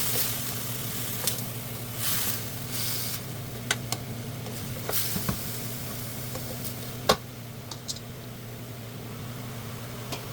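Pork browning in a pan for menudo gives a soft steady sizzle under a low hum, with a few sharp clinks and taps scattered through it.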